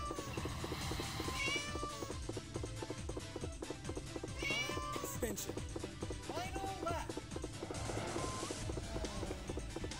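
A cartoonish cat meow sounds from a cat-shaped car in an arcade racing video game, repeated a few times over a dense, loud bed of game music and engine noise.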